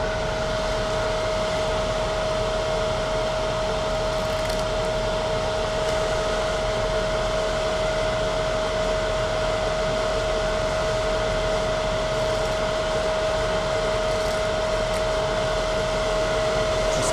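A lathe spins steadily while turning epoxy floor chips, giving a loud, continuous whirring drone with a fixed tone and no breaks.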